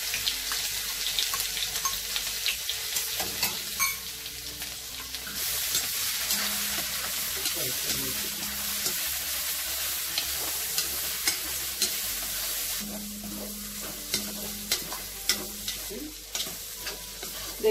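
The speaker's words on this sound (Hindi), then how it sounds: "अब इसमें मैं अदरक और जिंजर का पेस्ट डाल देती हूँ थोड़ा" Ginger garlic paste fries in hot oil in a kadai with a steady broad sizzle, stirring scrapes and a few clinks, water running from a tap partway through.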